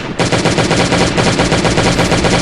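Rapid automatic gunfire in a video game, a dense, unbroken burst of loud shots firing in fast rhythm for the whole stretch, with no voices.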